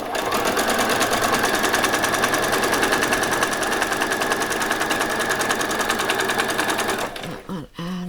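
A sewing machine runs steadily and loudly, stitching the seam of a Christmas party dress, then stops abruptly near the end as a voice briefly speaks.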